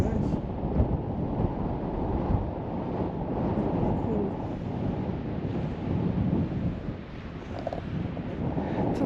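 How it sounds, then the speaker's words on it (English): Steady wind roars and buffets the microphone in a continuous broadband rush with no speech, on the Nullarbor coast overlooking the Great Australian Bight. "It's a little bit windy at the moment,"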